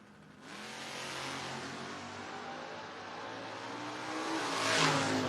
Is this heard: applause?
no